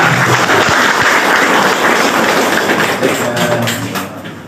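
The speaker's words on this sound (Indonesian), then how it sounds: "Tepuk tangan dulu untuk Mas Panenga" An audience gives loud, dense applause right up close that holds steady and then gradually tapers off, with no voices over it.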